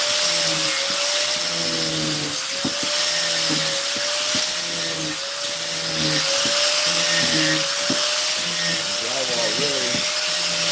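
A Dremel rotary tool carves wood at a live demonstration, giving a steady high whine that runs the whole time with small pitch wobbles and short load changes, while a person talks over it throughout.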